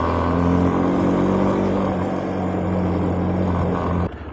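A 125cc and a 50cc motorbike ride along with a loud, steady, droning engine hum that holds even before cutting away abruptly near the end.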